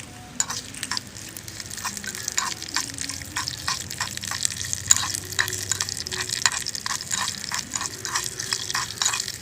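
Raw mango pieces sautéed in a pan for an instant pickle: a busy close sizzle with a rapid, steady series of spatula stirs and scrapes throughout, with no voices.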